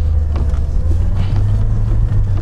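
Niva or UAZ Patriot off-roader crawling through mud in second low-range gear in the rain, a steady loud low engine rumble throughout with no voices.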